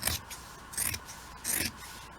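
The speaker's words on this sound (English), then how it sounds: "Let's cut that off." Scissors snip through fabric at a sewing seam and hem, three crisp cuts in an even rhythm, close and fairly quiet, with no talking.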